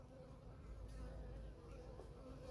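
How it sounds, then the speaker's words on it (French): Honey bees hum faintly around a garden watering spot where they come to drink, a low, steady insect drone that runs through the whole moment with no voices over it. "C'est plein d'abeilles, vous voyez."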